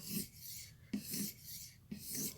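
A knife edge drawn across an abrasive sharpening stone to shear off the burr, three even rasping strokes in a slow rhythm, faint and close.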